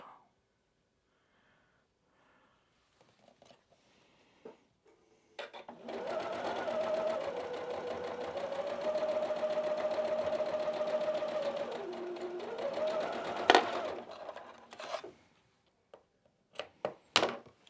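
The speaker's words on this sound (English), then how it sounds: "Okay, so we're going to sew this up." A sewing machine stitches quilt block pieces for a snowman face block, running steadily for about eight seconds after a few soft handling clicks, with light fabric rustles before and after.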